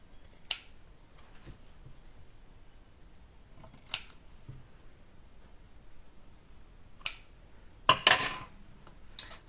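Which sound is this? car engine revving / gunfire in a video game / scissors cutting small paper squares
scissors cutting small paper squares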